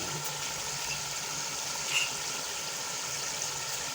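Beef karahi masala sizzles and fries in a pan with a steady, dense hiss that holds at an even level throughout, broken once by a faint clink near the middle.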